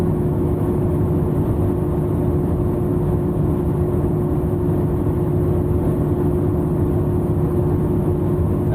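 Camper van engine pulling uphill at around 50 mph with the fan switched on, a steady loud low drone and road rumble running continuously without a break.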